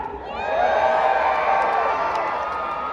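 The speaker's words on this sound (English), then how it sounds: "The louder you cheer, the harder these knights will hit." Crowd cheering and whooping at a live jousting show, a roar that swells after a quiet start and stays loud and sustained, with some shouts rising above.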